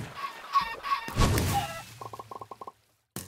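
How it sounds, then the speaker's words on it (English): Chicken in the Minecraft video game clucking in quick bursts, followed by a rapid series of hit thunks and clucks as it is attacked, then a brief silence before a final sound. "Let's kill the chicken!"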